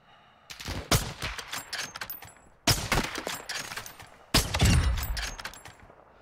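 Gunfire in Call of Duty DMZ, solo sniping with an SP-X 80: three loud bursts of rapid shots with echoing tails, separated by short pauses, with no talk.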